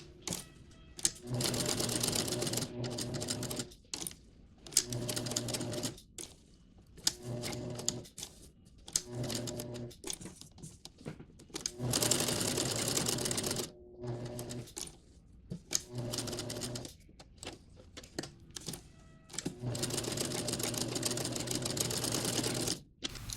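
Sewing machine stitching a snowman appliqué onto a Christmas apron, running in repeated bursts of steady rapid stitching separated by short pauses, close and clear with no talk.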